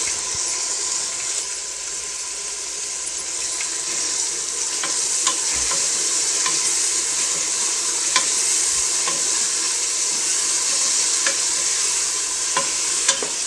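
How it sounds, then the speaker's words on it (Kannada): Carrot and chopped coriander being stirred in hot oil in a pan, a steady close sizzle with light scraping and occasional sharp clicks of the spoon against the pan throughout. "ಈಗ ಇದನ್ನ ಚೆನ್ನಾಗಿ ಮಿಕ್ಸ್ ಮಾಡ್ಕೊಳ್ತೀನಿ"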